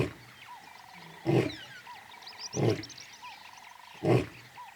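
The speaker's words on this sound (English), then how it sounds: "He announces his presence with a bellowing roar, which can be heard for up to 8 kilometers." A male lion's bellowing roar: three deep, loud grunting bursts at spaced intervals against a quiet background, with faint bird calls between them.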